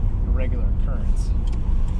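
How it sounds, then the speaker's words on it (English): A 1G Eagle Talon runs hard at wide open throttle, its engine droning loud and close with a brief break as it shifts gears, all in a short burst. "Just wide open throttle, banging through the gears"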